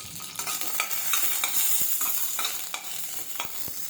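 Green chillies fry in a little oil with a soft, continuous sizzle, while a spatula taps and scrapes the pan in uneven strokes up close. No one speaks.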